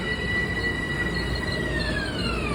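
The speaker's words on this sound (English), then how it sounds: "this M7 is loud. Damn traction motors." Traction motors of an M7 commuter train whine loudly and steadily in a long rising-and-falling tone, over a constant rumble of wheels on rails with a squealing edge, with no voices.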